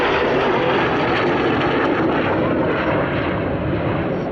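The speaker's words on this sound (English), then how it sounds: "the aircraft pulling 60. Pilot fighting hard" A Typhoon jet performs an aerobatic display at Cosford Airshow, producing a loud, continuous roar that fades slightly toward the end.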